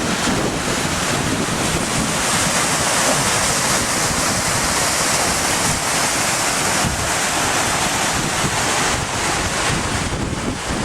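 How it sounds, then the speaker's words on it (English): An Iceland waterfall heard from its top roars as a steady, loud, broadband rush that never lets up, with wind buffeting the microphone and no voices. "I'm at the top of the waterfall now, a bit of a climb."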